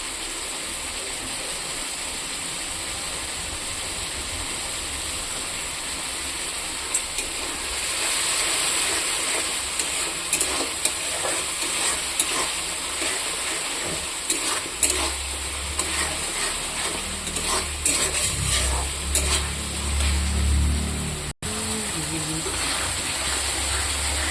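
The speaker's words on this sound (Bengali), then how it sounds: "এটা দিয়ে আমি কিছুক্ষণ ভাজবো।" Food fries in a pan with turmeric and already-fried potatoes for an eggplant and dry fish curry, giving a steady, close sizzle with stirring scrapes and clatters breaking through now and then, and no talking.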